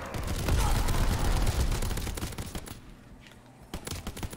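A light machine gun fires in Call of Duty WWII Zombies: rapid bursts of loud automatic gunfire roll on for several seconds, then thin out into scattered shots.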